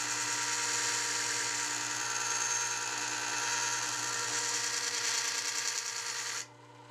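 A Work Sharp 3000 powered sharpener grinding a wood turning gouge produces a steady, close mechanical whir with a faint grinding texture, then spins down abruptly near the end.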